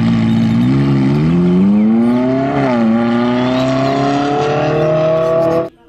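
A toy supercar's engine sound revs loudly and steadily, its whine climbing in pitch in rising waves over several seconds before cutting off abruptly at the end, with no voices present.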